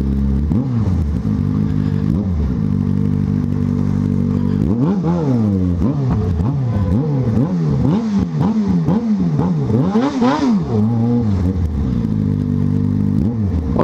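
A Yamaha XJ6 motorcycle revs hard nearby on a street in Braga, Portugal. Its engine rises and falls in repeated rapid throttle blips, with a loud close roar and rattling mechanical clatter, before it settles back to a steady idle.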